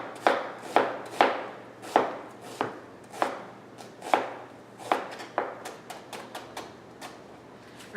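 A knife chops through onions on a board in a series of sharp, irregular thuds, about a dozen strikes, close and clear with no talking.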